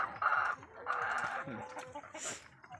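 Laying hens clucking on a farm, several close birds giving repeated drawn-out clucks and cackles that overlap in a busy, continuous flock chorus.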